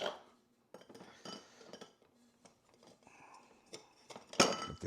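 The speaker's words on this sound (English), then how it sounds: "ice cubes" Ice cubes clink and knock against a tall cocktail glass in a series of sharp, close, irregular chinks, with a louder clatter near the end and quiet pauses between.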